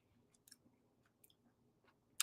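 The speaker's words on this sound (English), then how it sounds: "Let me just finish chewing this and enjoy it." Soft, close chewing of a Wyld gummy edible, with quiet sticky mouth clicks and smacks in near silence and one sharper click at the end.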